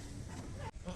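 Goats bleat at an animal market selling livestock for Eid al-Adha sacrifice, a loud wavering cry filling the moment with a brief break near the end.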